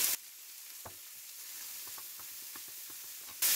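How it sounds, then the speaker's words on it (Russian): Noodles fry in a pan with sesame oil, a faint soft sizzle with scattered light pops and crackles, close and alone, bracketed by brief louder noise at the start and end. "Можно добавить сразу немного кунжутного масла. И обжариваем лапшу до золотистой корочки."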